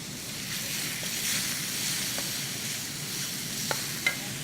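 Prawns and calamari stir-frying with chili in a fry pan, a steady broadband sizzle with light stirring scrapes and a few sharp clicks near the end, close and continuous with no talk.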